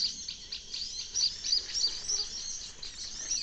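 Small wild birds call with repeated high, thin chirps over a trapping spot in Sumatra, where they are caught with a tegek fishing pole. The chirps come in quick clusters, fairly faint and steady, with no talking.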